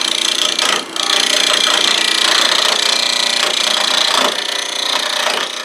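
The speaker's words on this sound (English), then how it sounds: "So we're going to switch back to the 1/2 inch gouge." A half-inch gouge cuts wood on a lathe with a steady, loud, broadband scraping hiss that keeps going throughout, with one brief dip near the start and small surges as the tool bites.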